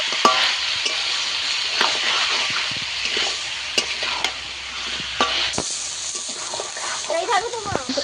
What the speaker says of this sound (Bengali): দিয়ে দেব লবণ দিয়ে ভালো করে আমি কষাতে থাকবো